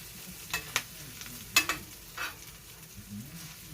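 Food sizzles softly in a new Lodge cast iron skillet whose cooking surface has been sanded smooth, with a steady low fry broken by several sharp scraping stirs against the iron.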